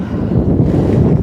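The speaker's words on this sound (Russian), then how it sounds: "Ох и ветер у нас, ох и ветер." Strong wind buffeting the microphone outdoors, a loud continuous low rumble with steady gusting roar throughout and no other clear sounds.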